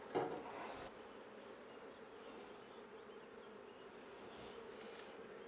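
A steady, low insect drone fills the whole stretch, like many bees humming together at close range, with a brief louder burst at the start.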